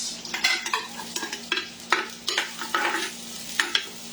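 Garlic, then onion, sautéing in a pan while being stirred, a soft sizzle beneath repeated scraping strokes of a utensil against the pan, close up in a steady, uneven rhythm without talk.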